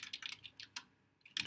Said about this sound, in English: So I'm just going to type in Anaconda